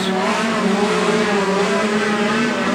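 Speedcars race around a track in a steady, loud engine drone, several cars blending into one sustained roar with a rising and falling pitch.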